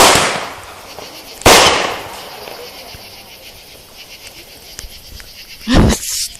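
Fireworks at a birthday celebration go off in three sharp, loud bangs spaced a few seconds apart, with faint crackling and outdoor background noise between the blasts.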